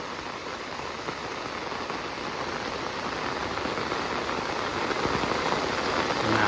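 Steady rain falls continuously, a dense hiss of drops that builds slightly louder toward the end, with no voices.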